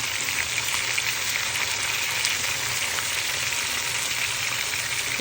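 Tandoori chicken cooking in a kadai on a gas stove, a loud, continuous hiss and crackle of sizzling fat that stays even and close throughout.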